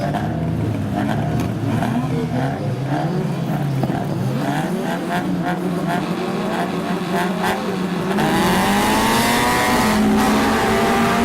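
Stock cars in a cross race rev hard and shift, overlapping engine whines rising and falling with occasional tire squeal, loud and close, with a louder surge near the end.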